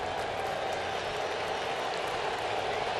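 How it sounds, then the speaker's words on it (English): A crowd at a 2023 Cleveland Guardians vs Seattle Mariners baseball game cheers and applauds. The roar is dense and steady, filling the stadium for a few seconds with no clear voices standing out. "Crowd offering up some enthusiasm."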